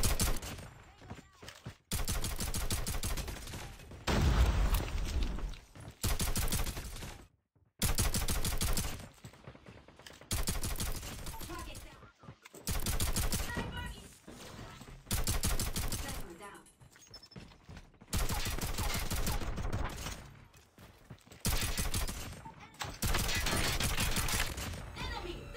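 Pistol gunfire from the MW11 with a light trigger in Call of Duty Mobile: about ten dense, loud bursts of rapid shots separated by short gaps, with clicks and game effects between them.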